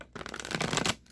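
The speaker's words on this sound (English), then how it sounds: "I'm going to shuffle this deck one more time," A deck of tarot cards being shuffled close by, a soft continuous riffling flutter that builds for about a second then stops.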